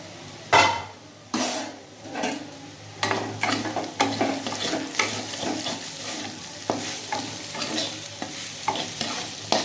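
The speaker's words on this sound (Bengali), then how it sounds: "এবার দেখবো আলু ভাজাটা কতটা হলো" Potato pieces fry and sizzle in a pan as they are stirred, with repeated scraping and clinking strokes of the spatula over a steady hiss, close up and without talk.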